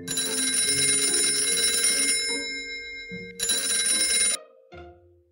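A telephone ringing indoors, two bursts of bright electronic ringing separated by a short pause, then cut off as it is answered.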